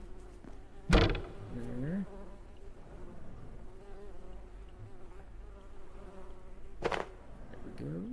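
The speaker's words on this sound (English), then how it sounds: "Let's get my bees." Insect-like buzzing of bees in the survival game Abiotic Factor, a steady low drone running through the scene with a couple of sharp louder thuds, faint and fairly close.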